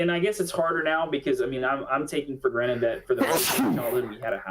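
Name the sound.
sneeze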